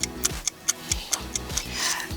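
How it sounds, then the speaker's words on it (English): Mechanical Swiss watch ticking close up, about ten crisp, evenly spaced ticks in a steady rhythm, with no voices. "when you hear this tick tick tick"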